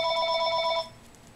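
Telephone ringing in a home kitchen during burger preparation, a steady repeating electronic trill that rings loudly for under a second and then cuts off, leaving a quiet room.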